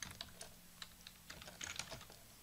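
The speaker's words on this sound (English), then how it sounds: "And then we can start typing in, thank you for your purchase." Rapid typing on a computer keyboard, with irregular close key clicks and a cluster of quicker taps near the end, heard alone without talk.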